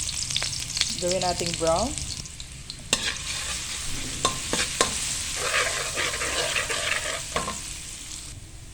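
Garlic fries in cooking oil in a hot pan with a steady, close sizzle and stirring scrapes, while a voice speaks briefly over the crackle.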